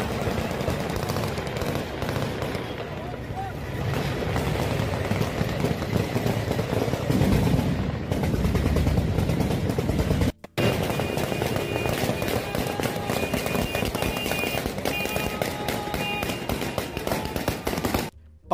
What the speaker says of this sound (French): des vidéos de mecs qui tirent avec des calaches en l'air